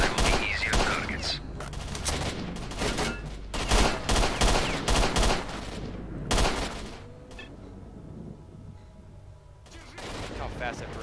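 Gunfire in the video game STALKER Shadow of Chernobyl: loud, rapid bursts of automatic shots crackle one after another with short pauses between volleys, ending in a quieter lull.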